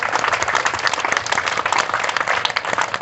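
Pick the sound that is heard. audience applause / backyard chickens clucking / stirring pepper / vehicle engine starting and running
audience applause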